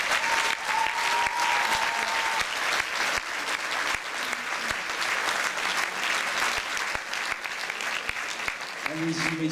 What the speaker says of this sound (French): Je vous demande de l'applaudir également très fort.